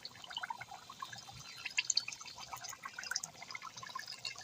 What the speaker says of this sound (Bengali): টকবক করে ফুটতেছে